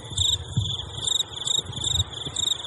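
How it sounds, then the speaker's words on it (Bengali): Crickets chirp in rhythmic, evenly spaced high-pitched pulses, used as a sound effect in a Bengali audiobook, with soft low rumbles underneath and no speech. "হঠাৎ তার খেয়াল হলো যে আবার ঝিঁঝি ডাকতে শুরু করেছে"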